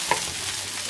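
Chopped onion and bell peppers fry in a pan, giving a steady, close sizzle with a brief stir at the start and no talking.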